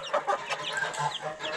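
Close, soft clucking from a hen, with faint higher peeps from her month-old chicks scattered through a short stretch.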